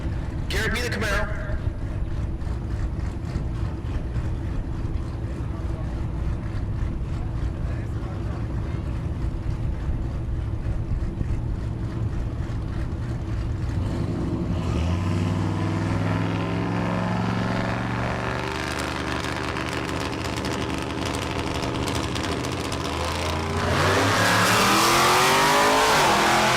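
At a dragstrip in Great Bend, Kansas, an International truck and a Camaro sit idling loudly in their lanes. Their engines then rev and launch, rising into a roaring, climbing howl that swells in volume at the end.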